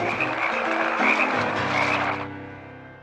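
A dense chorus of frogs croaking close by, close to a thousand of them, a continuous overlapping din that cuts off suddenly near the end, leaving a faint low hum.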